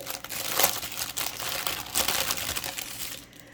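Plastic packaging crinkles steadily as a cross-stitch kit bag is opened, close and continuous rustling with a few louder crackles, quieter at the very end.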